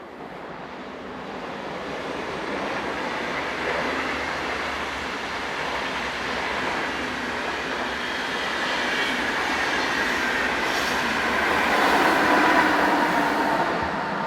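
A Chur to Basel passenger train pushed from the rear by a Class 460 locomotive rolls past at Turgel, a steady loud rumble of wheels on rails that swells toward the end with faint squeals, no voices.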